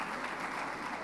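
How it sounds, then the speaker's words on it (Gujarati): An audience at the grand inauguration of a sports and convention centre applauds the youth team, a dense, even wash of clapping heard alone and steady for the whole moment. "પ્લીઝ એ લોકોને તાળીઓથી વધાવો."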